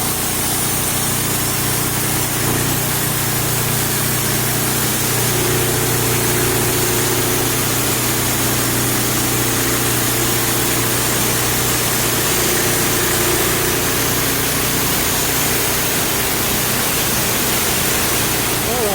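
A sawmill blade cutting through a hemlock log, a loud steady engine drone with a continuous whining, rasping cut running for the whole stretch, close and unbroken.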